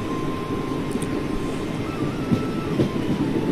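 Passenger train running along the Howrah main line between Vijayawada and Rajahmundry, a steady rumbling roar with rolling wheel and track noise, heard from on board, continuous and fairly loud with no talking.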